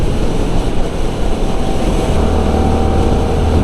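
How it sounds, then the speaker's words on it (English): A CF Moto NK 300 motorcycle engine pulls steadily in sixth gear under rolling throttle, a continuous loud drone mixed with heavy wind rush and no talking. "even at 6th gear, like rolling on the throttle, I mean, it pulls 6th gear, it doesn't bog"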